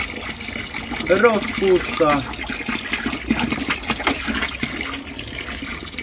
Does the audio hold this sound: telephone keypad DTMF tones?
no